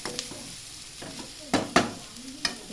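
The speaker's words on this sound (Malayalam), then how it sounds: "ഉള്ളിയും കൂടെ അതിനകത്തിട്ട് ചേർത്ത് അതിൻ്റെ ഒരു മിനിറ്റത്തേക്ക് അതിട്ട് ഒന്ന് ഇളക്കി കൊടുക്കുക." Onions frying in a pan are stirred in a few quick scraping strokes over a soft, continuous sizzle, close and fairly quiet.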